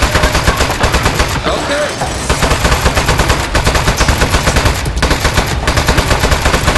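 Rapid bursts of automatic gunfire shooting a switch in the video game Aperture Desk Job, loud and continuous with a short pause, while a voice briefly speaks.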